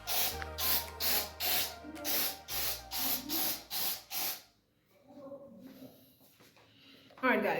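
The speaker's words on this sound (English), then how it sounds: "Now I'm going to spray the master bedroom." Repeated bursts of bug spray fill a bedroom, about eight short rhythmic hisses close by, then a quieter stretch of faint movement and handling sounds.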